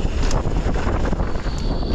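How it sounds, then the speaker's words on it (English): Strong wind buffets the microphone at a bike park, a loud, continuous rushing roar with gusty swells and no talk. "Oh, it's windy."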